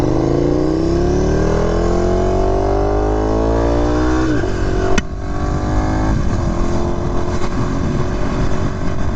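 KTM 1290 Super Duke R motorcycle fitted with a new SC Project exhaust, revving up close and loud, its pitch climbing over several seconds, then a sharp blip and a rough, throaty idle.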